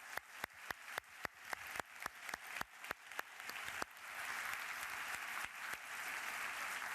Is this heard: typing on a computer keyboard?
no